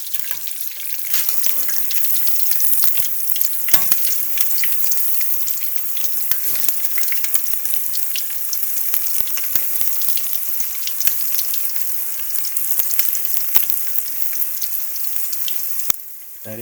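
Catfish pieces fry in hot oil in a pan and get stirred and turned, with a loud continuous sizzle and crackle plus occasional scraping, up close.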